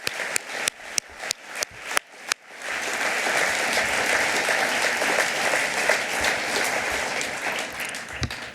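A festival opening ceremony audience breaks into loud, sustained applause after a few separate sharp claps, a dense crowd roar of clapping that holds steady to the end.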